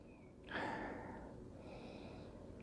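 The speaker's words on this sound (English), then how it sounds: "let's take a sniff of the aroma" A quick nasal sniff of an IPA beer's aroma, close and faint, with a short sharp intake followed by a soft trailing breath.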